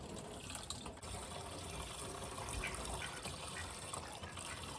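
Windshield washer fluid pours into the reservoir of a 2006 Chevrolet Silverado, a steady close liquid gush and splash running continuously with no talk.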